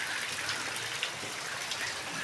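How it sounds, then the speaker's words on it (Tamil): Steady rain falling around midday in Kodaikanal, a dense even hiss of drops close by with no voices over it. "இப்போ பாருங்கள், மழை ஸ்டார்ட் ஆயிடுச்சு."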